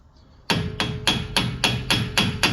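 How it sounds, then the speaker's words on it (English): Hammer lightly tapping a 13mm axle nut to free it from the hub on a 2004 Ford F150, eight sharp metallic taps at a steady even rhythm, close up with no talk. "Now I like to very lightly give this a tap just to free it up from the hub"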